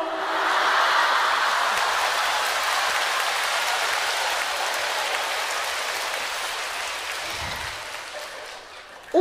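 A theatre audience at a Deyunshe crosstalk show claps in a dense, sustained burst that peaks early and gradually thins out over several seconds, with no talk.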